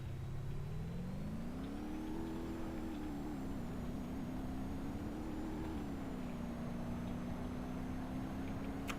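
A Ford Powerstroke 6.0 diesel engine in BeamNG.drive revs steadily upward, its throaty drone rising in pitch over the first few seconds, then settling into a sustained, loud mid-range hum with a faint high whine above it, no talk.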